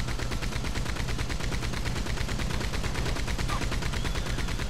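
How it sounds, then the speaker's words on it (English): A Gatling gun fires in Red Dead Redemption 2 Online, a loud, continuous rapid rattle of shots at a steady rhythm lasting throughout, dense and close. "I was wondering why I was hearing a Gatling gun."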